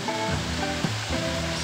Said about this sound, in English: now I'm standing by another couple of waterfalls